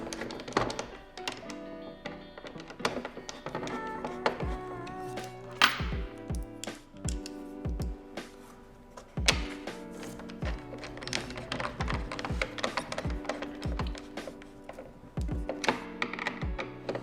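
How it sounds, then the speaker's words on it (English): Screws being driven to mount Burton Step On bindings onto a snowboard, a close run of sharp clicking taps and ratcheting ticks in quick irregular bursts with short pauses, no talking. "Once you get it set, really crank it down as tight as you can get it."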